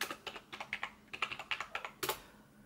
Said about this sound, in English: you know what I'm going to type in, don't you?